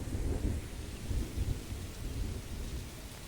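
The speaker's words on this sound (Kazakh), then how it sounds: "Жаңбыр деген жауып тұр." Steady rain falls around a shelter beneath a tree, a dense continuous wash with low rumbling, close and fairly loud throughout, with no voices.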